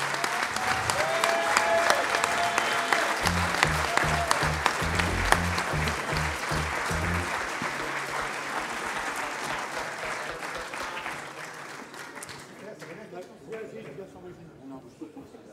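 Sustained audience applause for honoured employees at a flour mill company's jubilee, dense clapping from a large indoor crowd that holds steady and then gradually fades, with a voice briefly heard over it early on.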